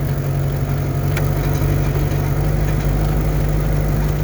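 Chevrolet Opala Diplomata fitted with a boat engine, idling with a steady, loud low rumble and an even, unbroken drone throughout.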